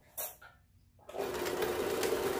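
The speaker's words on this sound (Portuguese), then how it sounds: "e vou costurar a volta toda" Sewing machine stitching around the edge of a fabric Easter wreath, starting after a few brief soft handling sounds and then running steadily and fairly close until the end.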